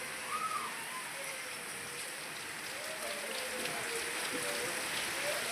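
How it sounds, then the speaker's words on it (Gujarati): Heavy monsoon rain pours down in a steady, dense hiss that stays even throughout, with faint bird calls in the background. "જોરદાર વરસાદ પડે છે"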